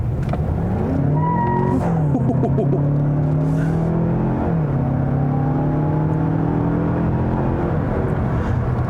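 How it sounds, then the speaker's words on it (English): A 2020 Mazda6 Signature Turbo's engine revs loudly with shifting pitch and a whirring drivetrain, continuous and close, with a hint of front-wheel-drive tire spin as it accelerates. "I did feel a little bit of torque steer and a good amount of wheel spin as well."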